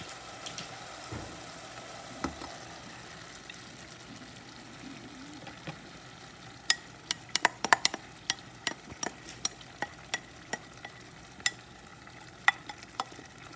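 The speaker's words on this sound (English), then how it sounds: "the next thing that we have to do is add in our crushed tomatoes" Crushed tomatoes simmer and are stirred in a hot pan, a faint low sizzle under a run of sharp, irregular spoon clicks and taps against the pan.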